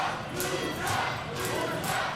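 A wrestling crowd at the Rock n' Wrestling After Party cheers and chants for the luchador Guerrero Seiya, a sustained roar of many voices with rising swells, heard at a distance.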